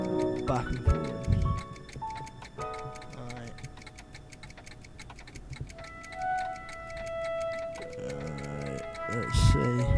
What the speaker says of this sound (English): What the hell is going on with the clock over there, where the letter T was?